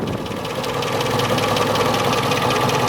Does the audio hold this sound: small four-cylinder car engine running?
yes